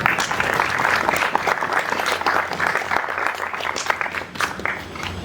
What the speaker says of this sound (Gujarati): એના માટે તાળી પાડવાની છે.